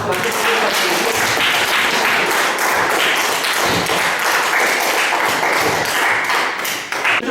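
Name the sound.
applause for students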